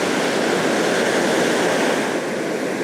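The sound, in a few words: sea waves breaking on a beach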